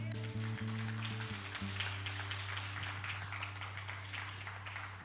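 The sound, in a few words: congregation giving strong applause to the Lord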